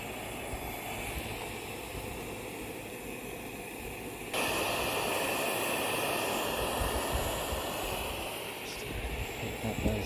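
Beans thrown onto a hot wood stove set up a steady, loud sizzle that jumps suddenly in strength partway through and then holds as a broad hiss, with a voice speaking over it.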